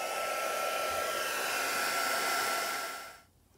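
A hair dryer blows at a junk journal photo, a loud, steady close-up roar that runs without a break, then cuts off in the last half second.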